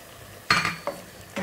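Coriander powder and Kashmiri chili powder stirred in a pan for a rabbit roast: a spoon scrapes and clinks against the metal in a few short strokes, close and fairly loud, with no voices.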